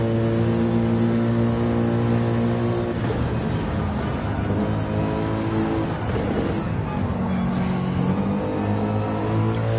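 Gr3 race cars lapping Goodwood in a racing game, engines droning loudly and continuously with steady harmonic tones, gear shifts and pitch changes as cars pass close by, no voices.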